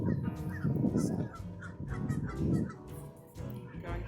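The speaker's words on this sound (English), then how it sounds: "I'm a little too close to these geese, and they don't like that." Geese near their young honk and squawk in repeated agitated bursts close by, with a voice speaking briefly among the calls.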